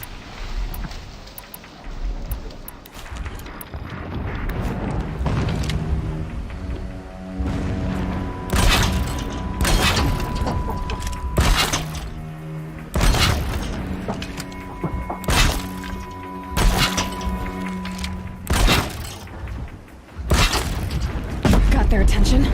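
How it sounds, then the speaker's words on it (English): Distant explosions rumble through a Horizon Zero Dawn game scene, several deep booms and thuds spread irregularly across the stretch under a steady bed of music and ambience, with game dialogue heard between them. "explosions in the distance"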